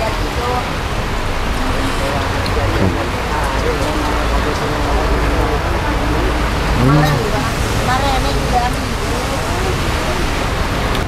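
Steady, dense rain hiss fills an outdoor street food stall, with faint voices and muffled activity audible underneath.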